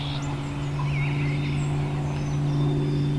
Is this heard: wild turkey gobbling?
yes